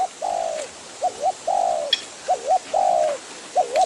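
Repeated soft dove coos in short phrases, some drawn out and some with a quick two-note rise and fall, fairly close in a quiet setting.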